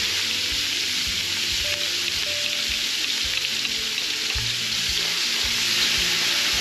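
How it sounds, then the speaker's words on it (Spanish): Onion fries in a pan for an Extremadura-style Spanish chickpea stew, giving a dense, steady sizzle close by, with occasional stirring knocks and scrapes underneath. "Vamos a agregar la cebolla."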